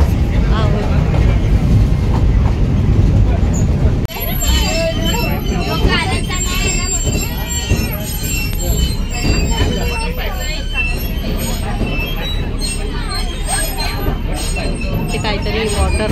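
The Matheran to Neral mini train runs on its track, a loud, continuous rumble of wheels and carriage clatter with high squealing tones after a sudden shift, heard close from on board.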